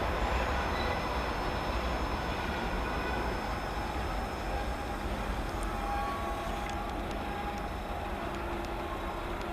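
A steady, continuous rumble and clatter of a CN freight train rolling past at moderate distance near Ladysmith, unchanging in level throughout with no voices.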